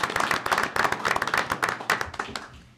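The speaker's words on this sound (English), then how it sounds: "I just want to give Stephanie a great round of applause for her service" Brief, close applause at a city council meeting: a small group claps steadily and briskly for a few seconds, with the sound fading toward the end.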